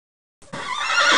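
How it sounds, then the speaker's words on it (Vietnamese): A horse neighs loudly and on its own, a sustained whinny that bursts in after a short silence and holds strong to the end. "con ngựa."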